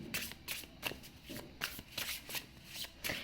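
Tarot cards are shuffled up close in a quick, repeated rhythm of crisp riffling flutters, with no talking over them.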